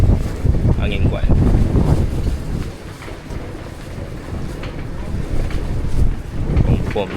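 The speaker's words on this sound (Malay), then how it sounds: "Angin kuat." Strong wind roars across a microphone during a pom-pom boat crossing to Pulau Penyengat, a constant heavy buffeting with engine and water noise beneath, while voices talk intermittently over it.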